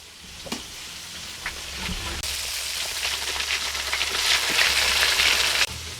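Chicken wings frying in a home kitchen pan, a steady close sizzle that swells louder toward the end, with a few light clinks and stirring scrapes and no talking.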